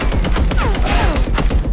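Rapid bursts of video-game gunfire fill the clip, loud and continuous, with several overlapping shots and whizzing sweeps in an intense firefight.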